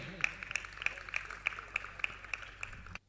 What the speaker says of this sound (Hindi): जोरदार ताली बजाकर उनका सम्मान करें